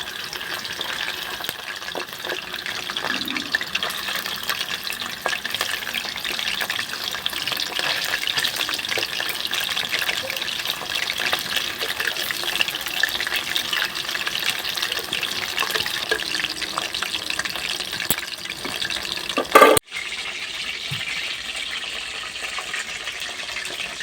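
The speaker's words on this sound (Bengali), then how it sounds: "পকোড়াগুলো একবার আমি" Chicken pakoras sizzle and crackle in hot oil in a pan, a steady close frying hiss lasting throughout, with a brief clatter near the end as they are turned.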